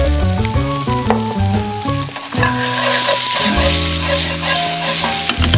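Bell pepper stir-frying in a pan for chili shrimp over rice, a loud steady sizzle running throughout, overlaid with prominent melodic background music and no speech.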